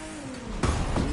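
A car drives through a U-turn in The Crew 2. A steady engine hum carries a rising tone, then a sudden louder burst of broadband road and engine noise follows near the end.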